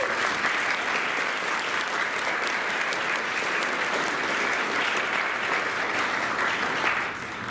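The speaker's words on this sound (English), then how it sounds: "Let's give them a round of applause" Sustained audience applause at a furry convention panel, honouring the convention staffers: dense, even clapping from a large crowd that holds steady throughout with no talking over it.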